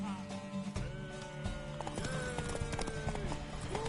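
Video game horse hooves clip-clop in a quick, steady rhythm, with a horse whinnying and a few faint voices in the background.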